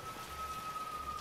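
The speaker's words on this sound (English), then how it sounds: "Okay, suddenly started raining." Rain beginning in the horror video game DreadOut, a soft, steady hiss of falling drops under a faint sustained tone, quiet and brief.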